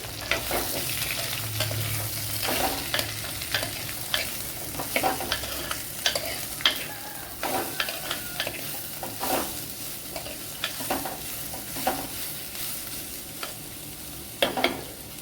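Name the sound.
sliced onions being sautéed in pan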